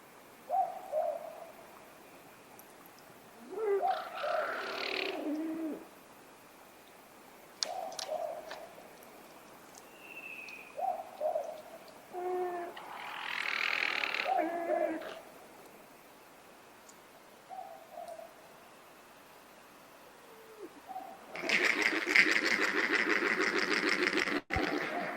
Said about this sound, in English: here you'll hear a bubuk owl in the background and a yellow belly giving soft moans as